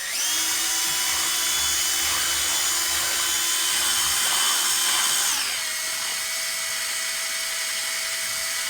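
A battery drill mixing acrylic paint whines steadily at high speed for several seconds, then its pitch drops as it slows and keeps running more quietly.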